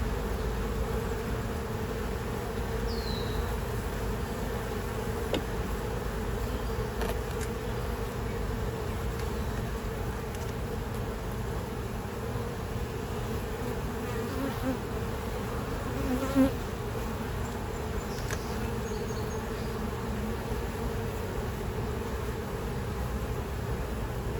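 Honey bees from a package colony buzz steadily around an open hive during an inspection six weeks after installation, a dense continuous drone close to the microphone with no talking.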